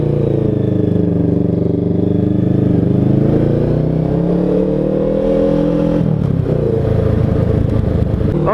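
A Honda CMX500 Rebel motorcycle rides and accelerates with a loud, close engine drone. The pitch rises steadily, then shifts with a gear change around the middle and climbs again.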